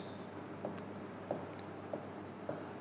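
A pen writes the word tense, with soft close scratching and four distinct taps or strokes spaced about evenly over quiet background.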